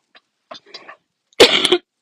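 After a few faint, soft throat sounds, one loud, forceful cough bursts out close by, then stops abruptly.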